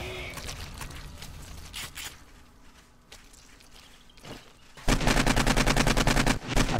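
Bursts of gunfire in the survival game 7 Days to Die: scattered shots in the first seconds, then a loud, dense rapid string of shots near the end, with a player voice speaking in between.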